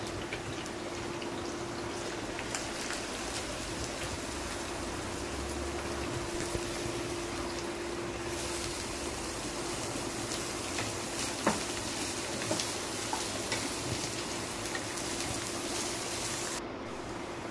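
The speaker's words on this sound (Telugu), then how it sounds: "మనం కడిగి పెట్టుకున్న కాకరకాయ ముక్కలు కూడా ఇందులో వేసి లో ఫ్లేమ్లో ఫ్రై" Sliced bitter gourd and onion fry on a low flame in a pan, giving a soft, even sizzle that runs without break, with an occasional faint stir or clink.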